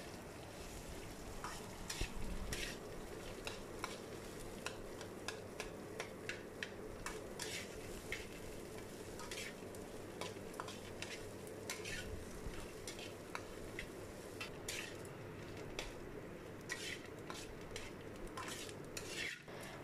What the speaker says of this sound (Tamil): ஸோ இதோட வெங்காயமும் சேர்த்து இது ஒரு 2 to 5 மினிட்ஸ் வந்து நல்லா ஃப்ரை பண்ணிக்கலாம்.